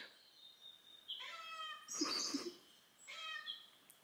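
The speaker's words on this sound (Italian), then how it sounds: "Gatto Denver gli parla" A house cat meowing while watching Cat TV, a few drawn-out nasal calls mixed with brief chirpy bird sounds from the screen, fairly faint in a quiet room with no talk.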